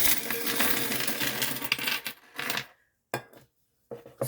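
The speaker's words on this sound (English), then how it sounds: "So this is what coins we've got for the month." A pile of coins is poured out for counting: a dense, loud metallic clattering and jingling that breaks off into silence, then returns in a couple of short bursts of coins settling.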